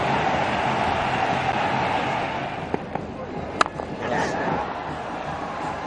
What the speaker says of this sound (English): Nice round of applause from the ground and the bowler himself